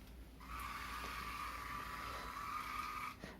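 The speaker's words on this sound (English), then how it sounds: "Let's steer the car back to the left." A remote-controlled car's steering, driven by an exercise pedal through a Wemos D1 Mini (ESP8266) board, gives a steady, close mechanical whine that holds for about three seconds and then cuts off.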